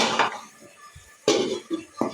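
A lid clanks down onto a cooking pot of braising young pigeon in a home kitchen, giving two or three sharp metallic knocks separated by quiet stretches.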